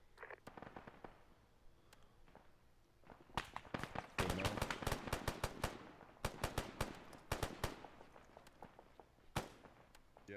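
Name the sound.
gunfire in the distance in the video game ArmA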